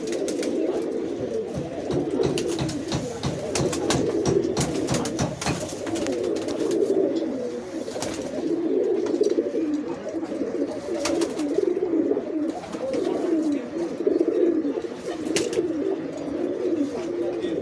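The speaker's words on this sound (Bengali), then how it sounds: "হ্যাঁ, এই একটা মাদি পায়রা দেখেন।" Pigeons coo continuously in a low, rolling throb at close range, with scattered wing flutters and clicks from a loft of homing and fancy pigeons.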